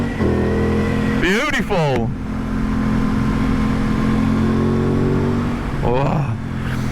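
Aprilia Tuono 660 motorcycle engine revving up through rising sweeps on a road ride, loud and close, with a second shorter rise near the end while someone talks over it.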